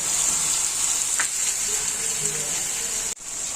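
Tomatoes and spices frying in oil for a Bengali small-fish gravy, a steady broad sizzle filling the whole stretch with faint stirring touches, cutting out briefly near the end.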